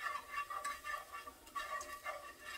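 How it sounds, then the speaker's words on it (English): A gravy whisk stirs fat and flour into a paste in a pan, giving soft, rhythmic scraping strokes in quick repeated bursts. The sound is faint and close, with a light sizzle underneath. "Got my gravy whisk, and we're just gonna stir it and make a paste."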